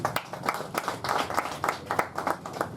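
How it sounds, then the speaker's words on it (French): Audience applause at a press conference for an album release in a studio workshop, a brief burst of steady, moderately loud clapping from a small crowd with no talk over it. "merci de l'applaudir."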